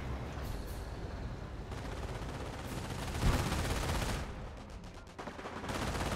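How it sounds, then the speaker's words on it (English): Thompson submachine guns rattle amid a dense wash of battle noise in Company of Heroes, steady gunfire with a sharper crack partway through and no voices. "Now got the Thompson Rangers firing away"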